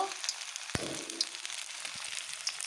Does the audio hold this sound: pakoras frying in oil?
yes